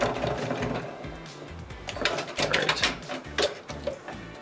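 A sewing machine stitches across thick, bulky quilt seams with a quarter-inch allowance, a loud, uneven clattering drive with heavier thumps as the needle punches through the layered seams.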